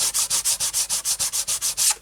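Excess glue is rubbed off the edge of a miniature wargaming base in about a dozen quick, even back-and-forth strokes, close up, with no talking.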